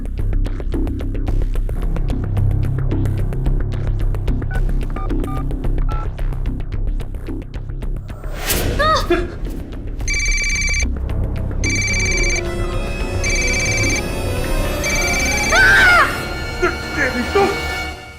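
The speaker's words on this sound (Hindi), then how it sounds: "मोबाइल लगाइए" A mobile phone is dialed and rings during a tense scene in an Indian crime drama, with tones and ringing near the end over a steady hum and background music, with voices around it.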